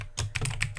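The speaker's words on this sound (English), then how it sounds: "I'll just type a little bit of text here" A short burst of typing on a computer keyboard, several quick keystrokes tapping out text in a document, close and fairly quiet, with no voices.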